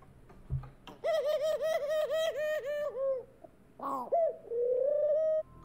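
A dove coos in a rhythmic series of repeated, wavering calls, loud and close, after a brief low thump, followed by a couple of longer drawn-out coos.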